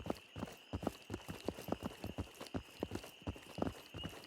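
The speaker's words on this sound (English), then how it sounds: "Hearing our footsteps on the other side." Footsteps in a first-person extraction shooter game, a steady run of hollow thudding steps close by, evenly paced over a constant background hum, with no talking.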